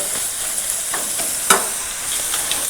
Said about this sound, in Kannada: ಒಂದು ten to ಫಿಫ್ fifteen seconds fry ಮಾಡಿ ಲೋ ಫ್ಲೇಮಲ್ಲೇ ಇಟ್ಟು